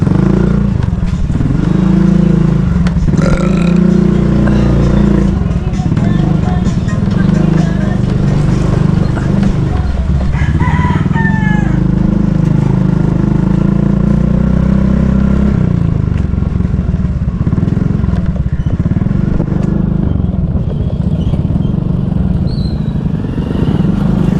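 Motorcycles passing along a road, a loud continuous engine drone rising and fading as they go by, with people talking over it.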